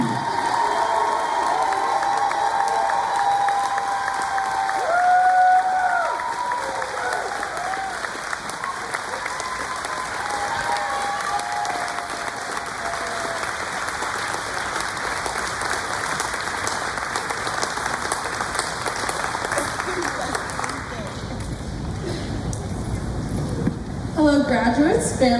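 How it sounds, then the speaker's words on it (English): Sustained applause and cheering from a large crowd for the Crossroads graduating class of 2023 at their graduation ceremony, with whoops and shouts mixed in, dense and loud before easing near the end. "let's give a big round of applause for the Crossroads graduating class of"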